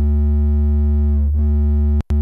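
A synthesizer holds a steady, buzzy tone, set to a sine wave with heavy drive while recreating a song, with rich stacked harmonics that briefly waver mid-way and cut out sharply near the end, loud and alone.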